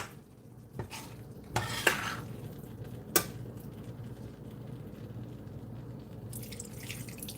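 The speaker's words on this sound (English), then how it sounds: "Adding a little bit more water to it because I've got to get these potatoes kind of softened up a little bit." Water is poured into a pot of cooking potatoes, with a few sharp metallic clinks and scrapes of utensils against the pot over a low, steady simmering hiss.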